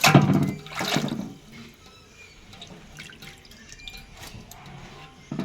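Ponnanganni spinach greens washed in water, with splashing and sloshing up close at the start, then quieter drips and small watery movements as the washing continues.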